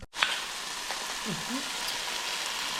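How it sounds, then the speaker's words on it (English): A steady, fine crackling hiss of oil sizzling in a pan for chicken curry, continuous and fairly close, with a faint clatter near the start. "You see the bubbles sizzling away at the top."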